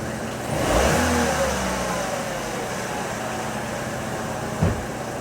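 A car engine rises briefly in a revving swell over a steady mechanical hum, then settles back to a constant idle, with a short knock near the end, recorded up close during a camshaft and crankshaft test.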